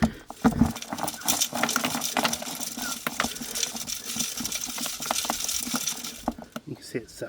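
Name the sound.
sieving wet dirt to separate out rocks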